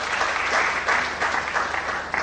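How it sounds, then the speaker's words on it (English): Lecture audience at a university alumni event clapping, a short burst of dense steady applause with a few louder swells, close and even. "I thought you would clap for yourself."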